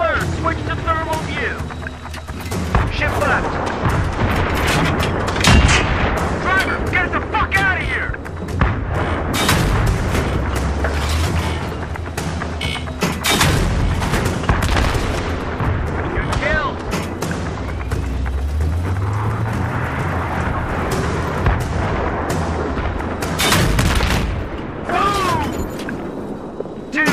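Tank cannon blasts and explosions in the Battlefield 3 Thunder Run mission boom repeatedly among rumbling engines and gunfire, loud and close, with radio voices talking over the battle.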